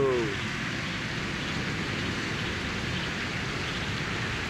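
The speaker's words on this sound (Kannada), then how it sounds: "ಬಂತು ಮಳೆ ಬಂತು ಮಳೆ ಬಂತು" Rain pours down at the seashore under dark clouds in strong wind, a dense, steady rushing hiss that holds at an even level from start to finish.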